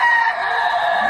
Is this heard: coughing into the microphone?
no